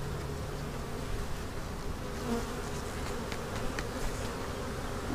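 Honey bees buzz steadily and close while being moved into a three-frame school observation hive, a dense continuous drone with no talking.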